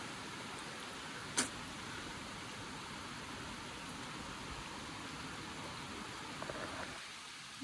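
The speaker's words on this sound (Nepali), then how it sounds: "यस्तो डरलाग्दो पानी पर्यो" Heavy rain pours down steadily over a village. It makes a constant, fairly faint hiss of falling water with a single sharp knock early on, and no voices are heard.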